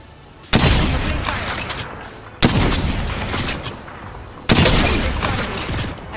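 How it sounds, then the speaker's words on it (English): Three loud, sharp gunfire bursts in the battle royale shooter Apex Legends, each striking suddenly and then fading into a long rumbling tail, spaced about two seconds apart. "Enemies firing at me."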